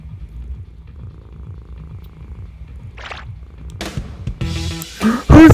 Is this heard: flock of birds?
no